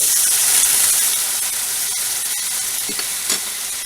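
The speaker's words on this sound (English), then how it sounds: "now we're going to go ahead and start adding our stock. And we're going to do it one ladle" A ladle of stock poured into risotto rice in a hot pan, a loud steady hiss and sizzle that gradually eases, with a few faint stirring clinks near the end.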